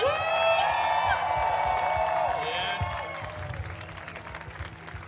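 Audience at the Malta Pride Concert 2021 gives a loud burst of applause and cheering for two competition performers, swelling at first and then tapering off, with a voice carrying over the crowd.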